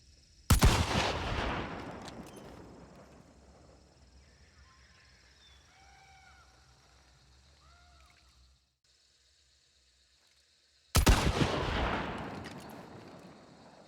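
A Romero 77 shotgun fires buckshot in the video game Hunt: Showdown, two loud booming shots about ten seconds apart, each with a long decaying echo and faint distant bird calls between them.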